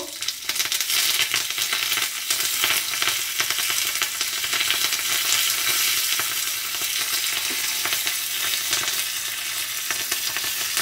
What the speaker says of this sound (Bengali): সর্ষের শব্দ বন্ধ হয়ে গেলে